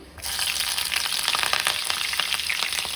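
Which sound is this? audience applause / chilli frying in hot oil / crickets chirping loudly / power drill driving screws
chilli frying in hot oil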